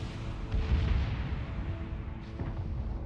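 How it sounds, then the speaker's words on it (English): Secondary guns of the German tier 4 battleship Kaiser fire in the naval game World of Warships, heard as muffled low booms rolling under a constant rumbling background. "the secondaries look to be opening up"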